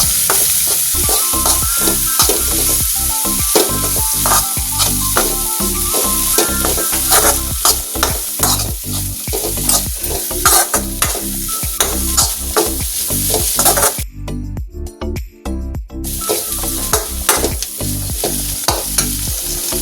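Cooked cowpeas and long beans being stirred in a frying pan, with a spoon scraping and clattering in a quick repeated rhythm over a constant sizzle, close and loud, briefly pausing near the end.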